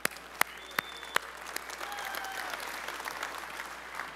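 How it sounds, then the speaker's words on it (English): Audience applause for the Bell Helicopter program team at the 2014 HAI show opening: a few sharp, loud claps up front, then a sustained, dense wash of clapping from the crowd. "Let's give them a big round of applause"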